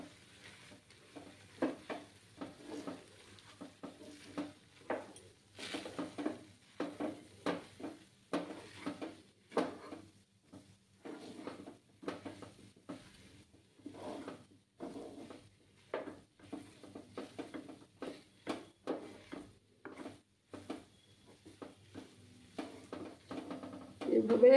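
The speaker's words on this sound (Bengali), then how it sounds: "দিয়ে অনবরত নাড়াচাড়া করব আমি।" A sandesh mixture made with palm being stirred nonstop in a pan on a stove over low heat: rhythmic scraping and tapping strokes repeat throughout, close but quiet, with a person talking now and then.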